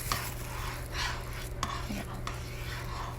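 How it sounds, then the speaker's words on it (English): Spatula spreading sesame oil across a pan over medium-low heat: soft scraping strokes over a faint sizzle, close and quiet, with no voices. "Put the sesame oil into the pan and use the spatula."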